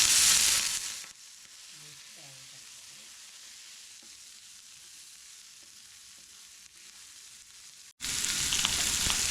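Tempering of onions, curry leaves, green chillies, ginger and garlic sizzling in hot oil in a pan, a soft steady crackle with occasional stirring scrapes, framed by louder bursts of noise at the start and end.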